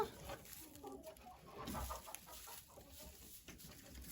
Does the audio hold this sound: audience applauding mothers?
no